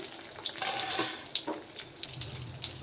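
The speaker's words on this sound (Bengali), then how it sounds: "কড়াতে তেল গরম হয়ে গেছে, এবার আমরা একটা একটা করে বেগুন ছেড়ে দেবো।" Eggplant pieces fry in hot oil in a wok, giving a steady, hissing sizzle with small crackling pops, close and moderately loud.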